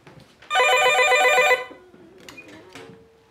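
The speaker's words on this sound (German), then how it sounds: "Der Sohn ruft aus Spanien an." A telephone rings for an incoming call: one loud, steady electronic ring lasting about a second, then it cuts off and only quiet room sound remains.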